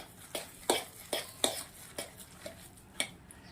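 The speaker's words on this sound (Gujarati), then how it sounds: "ભાતને આપણે આવી રીતના કાંટાવાળી ચમચીથી સરસ આવી રીતે કરી દઈશું પહેલાં" Cooked rice, cooled for about an hour, being loosened with a fork in a bowl: a series of light, close scraping and clinking taps, about eight in a row with brief pauses, fairly quiet and with no talking.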